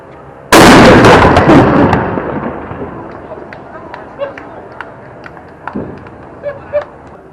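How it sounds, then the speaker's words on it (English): A WWII submarine's deck gun fires one loud, sharp boom that rolls out into a long fading echo, followed by scattered small clicks and knocks from the crew nearby. "Captain Frace invited me to fire the deck gun"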